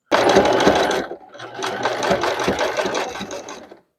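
A sewing machine runs a zigzag stitch across gathered doll-skirt fabric, a close, steady whirring chatter in two bursts separated by a brief pause.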